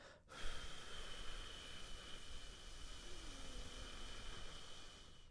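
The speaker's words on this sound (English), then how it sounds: "breathing all the air out from your diaphragm and from your chest" A long, steady exhalation pushes the air out from the diaphragm and chest during a breathing exercise, a faint continuous rush of breath lasting several seconds after a short pause.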